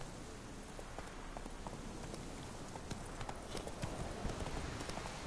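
Roach the horse trots through rain in Witcher 3, soft hoof clops half-buried under a steady hiss of falling rain, faint and continuous.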